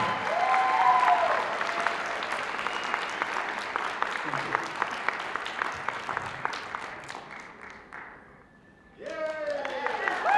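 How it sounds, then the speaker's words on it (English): Applause for middle school award winners at a youth film awards ceremony, steady clapping over about nine seconds with voices mixed in, fading to a brief lull before a new burst of clapping and talk at the end. "Give all of our middle school genre winners a huge round of applause."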